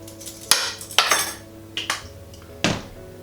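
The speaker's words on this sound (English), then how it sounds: "So give them a good sort of mix around so that you coat every piece in oil and agave." Chunks of sweet potato and butternut squash being tossed with oil and agave syrup in a baking tray: four sharp metallic clanks of a utensil against the tray at irregular intervals, close and fairly loud, with no speech.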